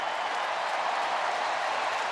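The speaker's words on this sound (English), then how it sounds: "Crowd applauding in the background." A baseball crowd at a Cincinnati at Los Angeles game claps steadily, a dense even wash of applause that carries on without a break.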